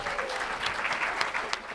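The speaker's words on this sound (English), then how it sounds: "Please give a round of applause for this year's Class Student Employee of the Year, Mandy Camp." An awards ceremony audience claps steadily in a dense, even wash of applause, moderately loud and close, with a few sharper individual claps standing out.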